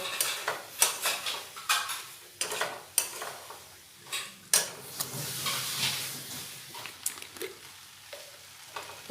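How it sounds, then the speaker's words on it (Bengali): A spoon scrapes and clatters against a pan while stirring ghugni with a little sugar, a steady gentle sizzle running underneath the repeated sharp knocks and scrapes, no voices. "এবার ওতে দিয়ে দেবো সামান্য চিনি, দিয়ে নাড়াচাড়া করে খুব ভালোভাবে মিশিয়ে নেব।"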